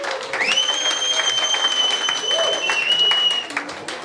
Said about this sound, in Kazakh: немере ағамызға ду қол шапалақ деп.